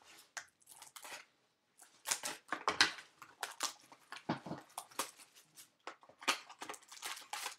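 Scissors snip repeatedly through packaging at close range, giving a run of sharp cutting and crunching sounds with short pauses between them.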